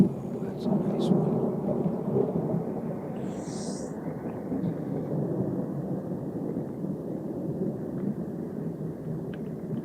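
Thunder rolls in a long, low, continuous rumble throughout during an afternoon storm outdoors, steady and fairly loud, with a few brief higher sounds near the start.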